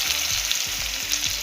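Potatoes for a mutton curry fry in hot oil with a loud, steady sizzle and crackle, punctuated by soft, rhythmic stirring scrapes in the pan.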